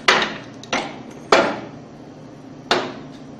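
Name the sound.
pressing pump seal assembly in with pipe piece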